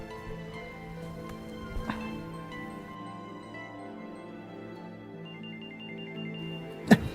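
A telephone rings indoors with a repeated electronic ringtone pattern over a steady background hum, fairly loud and close, with no talking over it.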